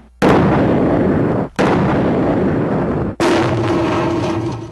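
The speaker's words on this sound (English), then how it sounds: "It's simulating what can happen to someone if a bomb were to go off near an office." Simulated bomb blast test near an office, heard as three loud, sudden booming bursts, each followed by a sustained roaring rumble that stops abruptly before the next blast.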